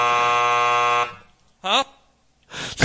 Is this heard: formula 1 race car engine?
no